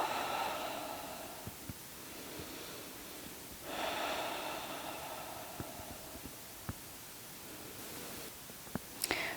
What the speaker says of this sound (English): And let's take 3 rounds of breath.